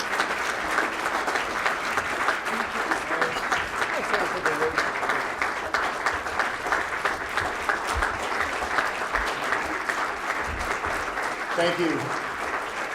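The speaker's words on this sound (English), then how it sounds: "Everyone give them a round of applause." An audience at a business enterprise awards ceremony applauds with sustained, dense clapping that fills the whole stretch at an even level, while a voice briefly speaks over it.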